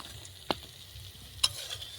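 Fish fries in oil, a soft steady sizzle close by, broken by two sharp clicks of a utensil against the pan.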